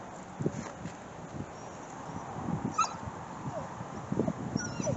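A young dog whines and whimpers in thin, intermittent cries over steady outdoor background noise, with a few brief sharper yelps scattered through several seconds.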